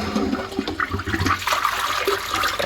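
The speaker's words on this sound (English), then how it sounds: "I'm going to use the back of my fist to flush the toilet" A toilet flushes close by while its neglected bowl is being cleaned, a steady rushing and gurgling surge of water that fills the whole stretch without any talk.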